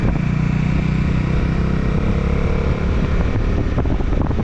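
A Bajaj Dominar 400 motorcycle is ridden on a race track, its engine a loud, steady, close-up drone. Heavy wind rush blends with the engine for the whole short stretch.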